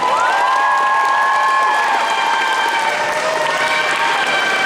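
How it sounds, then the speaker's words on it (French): A convention crowd applauds and cheers for a local cosplayer at a cosplay jury presentation, loud dense clapping with whoops and shouts held steady throughout, with a few higher voices rising above the din. "on l'applaudit un petit peu plus fort que ça"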